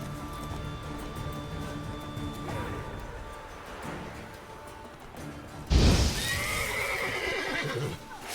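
Bandits' horses neigh and whinny in the video game Witcher 3, with clip-clopping hooves and a sudden loud crash midway followed by more whinnying.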